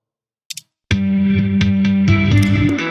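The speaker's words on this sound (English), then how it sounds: "Just a regular old guitar distortion making it sound horrible." After a couple of faint clicks, a heavily distorted electric guitar rings out loud with buzzing, saturated chords that change a few times.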